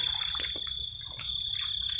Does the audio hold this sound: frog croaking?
yes